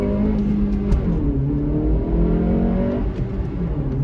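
A 2023 Acura Integra fitted with a cold air intake accelerates, its engine note climbing in rising harmonic sweeps that hold steady and loud throughout, with a brief dip near the end before the revs pick up again.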